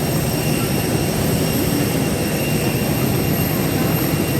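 Constant jet engine whine and roar on the airport tarmac at Naples, loud and steady with a high tonal hum over broad rumble, no pauses.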